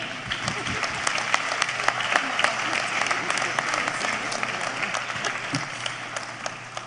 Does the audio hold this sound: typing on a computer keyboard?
no